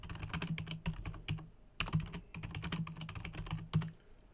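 Rapid clicking of computer keyboard keys during typing, in irregular bursts of keystrokes close to the mic, with a short pause midway and no talking.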